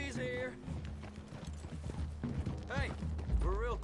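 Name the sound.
horses' hooves clip-clopping through trees in a video game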